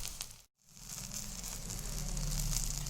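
Ridge gourd dosa frying in oil on a pan gives a steady, soft close sizzle, broken by a short moment of silence near the start.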